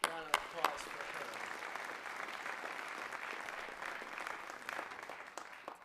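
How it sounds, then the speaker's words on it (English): Audience applause at a visiting writers series event, a steady wash of clapping after a few sharp initial claps, moderately distant and fading slightly at the end. "Another round of applause for her."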